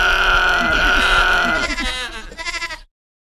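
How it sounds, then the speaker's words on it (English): A goat bleats loudly and close by in a long wavering cry, followed by a couple of shorter, shaky bleats before silence. "This sound of the goat is called baaing or bleating."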